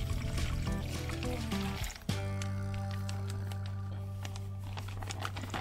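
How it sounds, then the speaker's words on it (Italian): Water is poured into a container before wall filler powder is added, giving a loud continuous gushing fill whose pitch shifts as the level rises, with a brief break partway through. "Versate nel recipiente prima l'acqua e poi la polvere."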